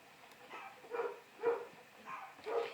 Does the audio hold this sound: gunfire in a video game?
no